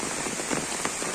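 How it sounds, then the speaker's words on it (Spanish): Heavy rain pours steadily during a fishing trip, a dense, constant hiss of drops striking surfaces up close with no pauses. "Tenemos ya alrededor de una hora de que está lloviendo ya bastante fuerte."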